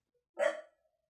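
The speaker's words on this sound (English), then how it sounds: "The dog agrees. That's my dog right there." A single short dog bark sounds close and clear in an otherwise quiet room, lasting about a third of a second.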